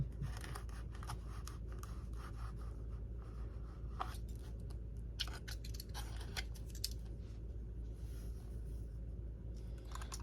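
A utility knife slices through foam for a model A-10 Thunderbolt aircraft canopy, giving soft, intermittent scraping and crisp cutting strokes over a steady low background hum, close and moderately quiet.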